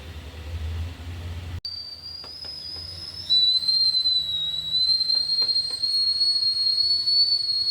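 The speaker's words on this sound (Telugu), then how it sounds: "ఇడ్లీ కుక్కర్ విజిల్ వచ్చింది కదా" An idli pressure cooker lets out a steady, high-pitched whistle that grows louder and keeps hissing continuously.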